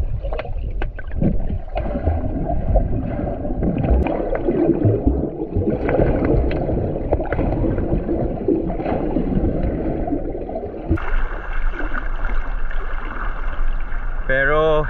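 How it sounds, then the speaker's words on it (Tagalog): A strong river current flows steadily through the whole stretch near Coto Mines in Masinloc, Zambales, a continuous loud rushing wash with splashy texture, and a person talks over it at the start and again near the end. "Mukha lang kalmado yung tubig pero malakas yung alon, yung current."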